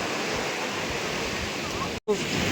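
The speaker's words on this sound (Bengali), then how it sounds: "দ্বিতীয় দিনে বেশি ঢেউ, প্রথম দিন অতটা ছিল না, কালকে একটু বেশি ছিল, আজকে আরো বেশি" Sea waves crash and surge on the beach at Puri during a full-moon swell, a steady broad roar with a brief dropout before the surf rushes back in.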